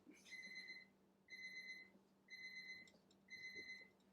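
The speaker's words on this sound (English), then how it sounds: "The timer's going off." A kitchen timer alarm goes off in four evenly spaced bursts of rapid high electronic beeping, each lasting about half a second, steady and moderately loud over a quiet room hum.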